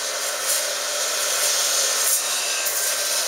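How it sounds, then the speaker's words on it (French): Extraction vacuum rinsing and sucking dirt from a mattress during a mattress cleaning service, giving a loud steady close hiss and suction roar with slight surges as the nozzle moves, no talk. "on va vraiment rincer et aspirer la saleté, extraire la saleté, les résidus, les allergènes"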